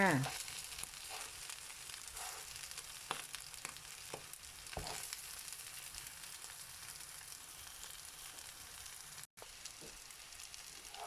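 Battered mussels fry in hot oil with a loud, continuous sizzle full of dense crackling and popping. Occasional sharper clicks of stirring or utensils sound close up.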